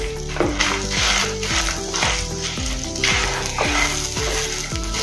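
Dry red chilies, roasted chana and spice stuffing sizzle and roast in a pan for bharwa baingan, a steady close frying hiss with tonal music running underneath.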